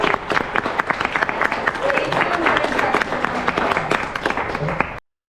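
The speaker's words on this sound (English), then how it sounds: "So let's give a round of applause." Audience applause after an investing panel in Times Square, New York, a steady dense wash of many hands clapping at moderate loudness, with a few voices mixed in, running the full length before cutting off abruptly.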